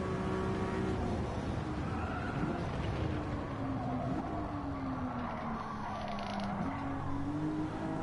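A car drives in second gear on a manual gearbox with delicate throttle, giving a steady engine drone whose pitch rises and falls gently over constant road noise.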